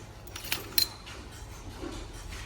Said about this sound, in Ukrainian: Ключі,